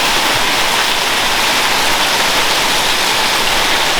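Heavy rainwater pours off a house roof edge with no guttering, a loud, dense, continuous splashing roar with no voices.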